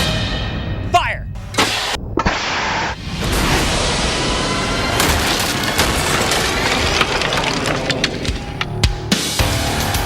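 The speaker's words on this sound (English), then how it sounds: "At this speed, the 2x4 easily penetrated through 2 walls." An air cannon fires a 2x4 through two walls: a sharp blast and loud cracking, splintering impact, then sustained rumbling debris noise with people talking over it.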